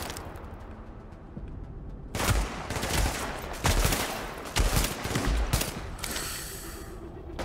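Gunfire in The Division video game, a quiet lead-in before loud, sharp shots burst out repeatedly in clustered volleys, with heavy low thumps and ringing tails.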